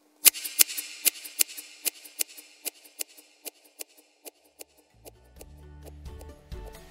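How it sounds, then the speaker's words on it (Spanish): Huge scissors snip steadily, about a dozen sharp metallic cuts in a regular rhythm that gradually grow fainter, followed by a low musical tone at the end. "Sacó de su bolsillo unas enormes tijeras que brillaron con el reflejo de la luz de la luna"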